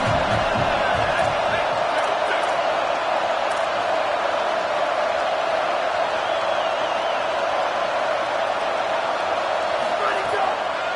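Football stadium crowd at a Texas State vs Alabama game, a dense, steady roar that holds at high level throughout, with a commentator talking over it.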